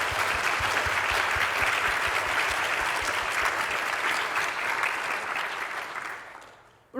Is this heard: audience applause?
yes